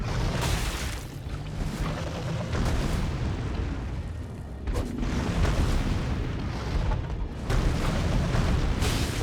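Heavy booming impacts from a boss's big slam attack in the Elden Ring video game, several deep thuds and rumbling blasts rolling over a loud, sustained battle din with no talk.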